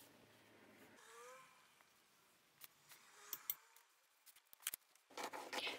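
Scissors snip through a paper sewing pattern for shorts, cutting along marked lines in a series of short, irregular close cuts that grow busier toward the end, with no talk.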